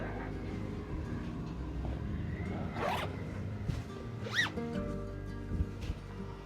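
Zips being drawn along a caravan bedding system while someone climbs onto the bed, a few quick rasping pulls close by over low background rumble.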